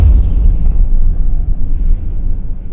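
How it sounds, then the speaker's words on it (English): A warship blows apart in the naval combat game From the Depths, its ammo cache going up. A loud, rumbling blast with a heavy low boom rolls on for several seconds. "Look at that explosion. It put it underwater."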